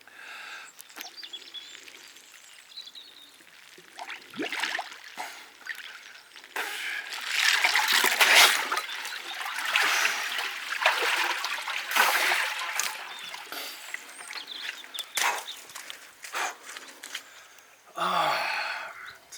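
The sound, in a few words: dunking body into cold water in oak barrel ice bath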